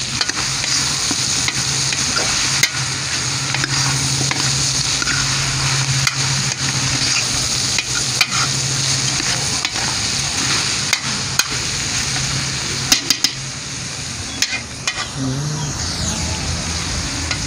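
Kamias and meat stir-fried in a pan for papaitan, a steady sizzle with repeated scraping and clanking of a utensil throughout, close and alone.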